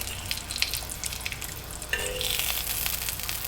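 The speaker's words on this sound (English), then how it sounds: "Let's get our bacon going so that way we can at least get some of this started." Bacon strips frying in a pan for a breakfast sandwich, a steady close crackling sizzle that grows denser and louder partway through, with no voices.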